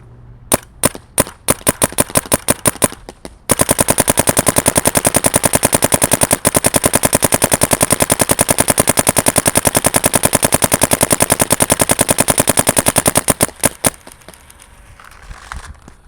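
A Dye M3+ paintball gun fires a dozen quick single shots, then a long, very rapid, even string of loud, close pops for about ten seconds before stopping, with no talking.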